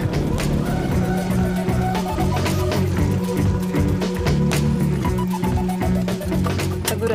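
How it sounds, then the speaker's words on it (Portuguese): A Seat Ibiza is driven hard, its engine revving and tires squealing continuously in a loud, close drone with scattered clunks, and a voice speaks briefly. "estamos aqui para testar este Seat Ibiza. Vamos dar uma voltinha para ver como é que ele se porta."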